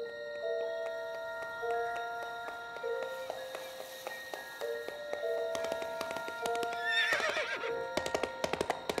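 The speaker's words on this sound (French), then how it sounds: "Les chevaux de la tribu." Horses of a tribe in a Yakari cartoon, several whinnies and neighs in sequence followed by rapid clip-clop hoofbeats growing louder toward the end, no speech.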